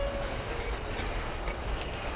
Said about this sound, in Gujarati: સામે ટ્રેન જઈ રહી છે.